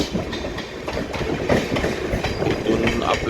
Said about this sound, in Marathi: ही समोर येणारी लोकल ट्रेन आहे ती खोपोलीवरून आलेली आहे